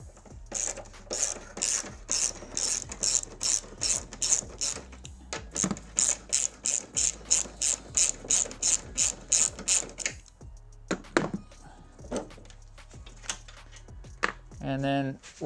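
A ratchet loosens the shock tower nut on a Hyundai Veloster during a coilover install, with fast repeated clicking strokes up close for about ten seconds, then a few scattered clicks and clunks.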